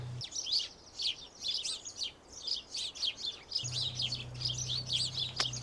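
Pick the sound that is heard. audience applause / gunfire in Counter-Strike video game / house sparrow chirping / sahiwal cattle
house sparrow chirping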